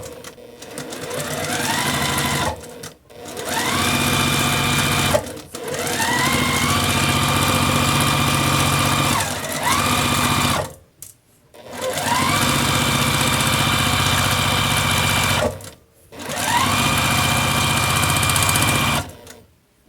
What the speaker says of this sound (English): I'm going to back stitch right there.